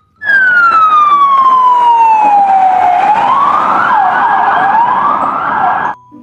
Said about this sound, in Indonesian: Wow, lihat. Ada mobil polisi.